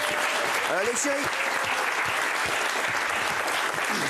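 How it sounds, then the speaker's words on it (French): An audience bursts into loud, steady applause at the close of a French talk-show interview, the clapping dense and continuous throughout, with brief voices calling out over it. "On peut applaudir fort."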